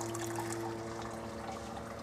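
Hot sparge water flows steadily from a temperature-holding urn through a pump during a home ale brew day, a constant watery rush with a low mechanical hum underneath, close and unbroken.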